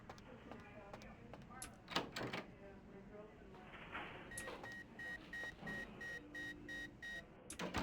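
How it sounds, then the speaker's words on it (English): Electronic beeping in Vampire: The Masquerade - Bloodlines, a regular series of about eight short, evenly spaced tonal beeps, fairly faint, following door-like thuds and clicks, with someone talking over parts of it. "What's that beeping?"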